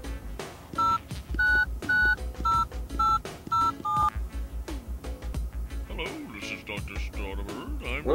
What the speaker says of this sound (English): we got our phone number, which I'm about to dial